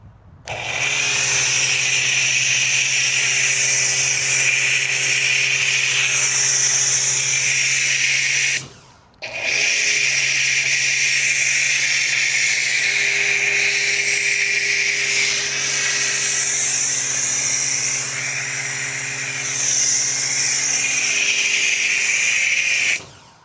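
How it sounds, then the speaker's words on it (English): A pressure washer sprays foam over a car during a hybrid wash, a loud continuous hiss with a steady motor hum underneath, cutting out briefly once before resuming for the rest of the stretch. "All right, pressure washer is actually on now."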